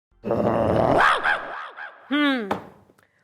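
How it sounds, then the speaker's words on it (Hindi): A dog barks and growls up close in a comedy scene, a few loud rough bursts with a sharp yelp-like rise near the end, no speech over it. "भाई हमने थोड़ा ही किसी से कहा है कि हमारे कुत्ते काइया से डरा करो।"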